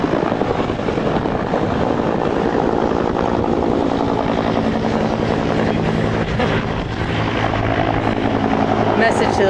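Helicopters fly low over a wildfire during the 2007 Santiago Fire in Silverado. Loud, dense rotor chopping and engine drone continue throughout, close and steady, with voices partly audible under the noise.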